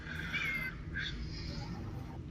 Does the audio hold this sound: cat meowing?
yes